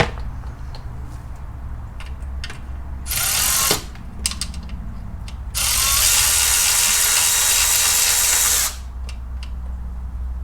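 A ratchet wrench backing out the last bolt on a Porsche Boxster transmission, short bursts of clicking followed by a long continuous rapid ratcheting run, close and loud with no talk.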